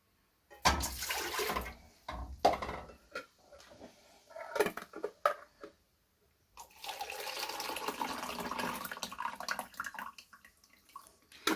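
Water being poured off preserved peaches into a measuring container, a splashing, gurgling stream in bursts with short pauses, then a longer steady pour close by.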